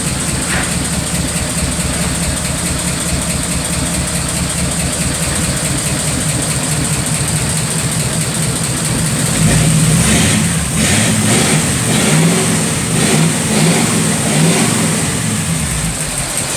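A 1927 Ford Roadster flathead engine, cold and slightly ticking from valves needing adjustment, idles loud and close in a steady lumpy rumble, then revs up in several rising surges midway before settling back.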